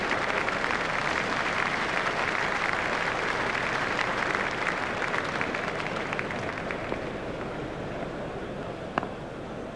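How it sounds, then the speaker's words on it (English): A large cricket crowd applauds steadily for a batsman reaching his half century in a one-day run chase between India and Australia in Australia, a dense, continuous wash of clapping that eases slightly toward the end. "Crowd are giving him a great round of applause as they appreciate the importance of this knock."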